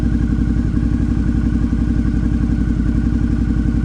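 Suzuki V-Strom 650 motorcycle with a charging problem idling nearby, a loud steady rhythmic engine throb with slight mechanical clatter, no voices.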